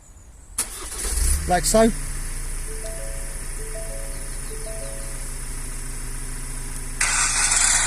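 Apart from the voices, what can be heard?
Ford Transit Custom van engine starting remotely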